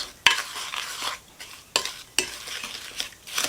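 Spoon stirring a thick mixture of breadcrumbs, grated cheese and clam juice for baked clams made with canned clams, scraping against a bowl in uneven strokes with a few sharper clinks of metal on the dish.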